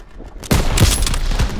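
Gunfire in the Call of Duty WW2 video game, on Veteran difficulty, breaks out as a sudden loud burst of rapid shots that keeps going to the end, following a quieter lead-in.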